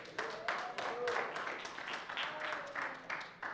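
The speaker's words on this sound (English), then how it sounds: "you can give God a hand clap for that right there" A church congregation claps during a Sunday sermon, with rhythmic, fairly quiet hand claps heard alongside a talking voice.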